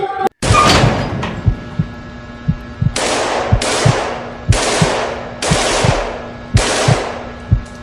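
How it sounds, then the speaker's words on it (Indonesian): Several loud, booming gunshots in a video game fire one after another at a steady pace, each followed by a long noisy rumble, with low thumps underneath. "tiba-tiba terdengar suara tembakan"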